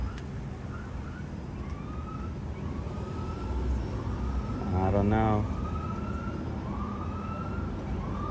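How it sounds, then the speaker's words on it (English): An ambulance siren wails with rising and falling sweeps, swelling gradually as it approaches on a street in Boston, under nearby chatter and a steady traffic rumble. "Oh, I hear sirens."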